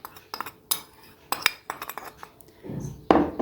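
A utensil stirs spices into flour in a bowl for a crumb-free, egg-free breaded chicken breast coating, giving repeated scraping clinks and taps against the bowl at irregular intervals, close and fairly loud, with no talking.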